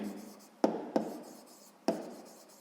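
Pen or chalk writes out a sixth-grade math exercise: faint soft scratching runs between three sharp taps, quiet and close, with no talk over it.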